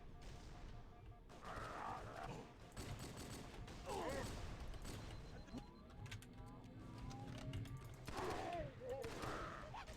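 Gunfire rings out in the Halo SPV3 shooter game, with several loud bursts of rapid shots and explosive cracks spaced over several seconds amid steady battle noise.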